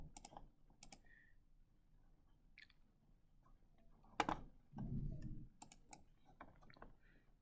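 Calculator keys pressed in a series of sharp, irregular clicks at close range, some louder taps standing out from quieter ones, with a faint low background.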